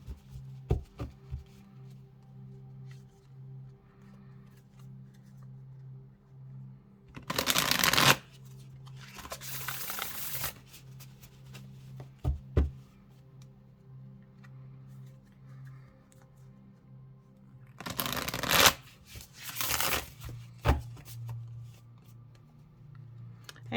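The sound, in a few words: shuffling a Sacred Bee tarot card deck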